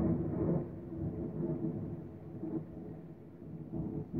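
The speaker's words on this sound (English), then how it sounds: "Yeah. Thunder." Low, muffled rumble of distant thunder rolling on and off, swelling in a few slow waves without any sharp crack.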